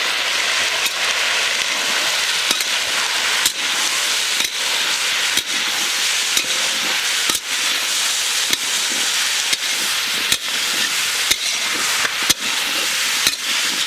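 Vegetables fry in a pan with salt, turmeric, cumin and chili powder, a loud continuous sizzle close by, punctuated by regular sharp scrapes of a stirring spoon about once a second.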